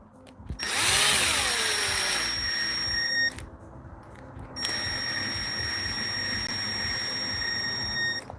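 A power tool whirring like a crawler motor during an XRT differential change: a loud motor spins up with a rising whine, runs steadily, stops briefly, then runs again at a constant pitch, with no talk.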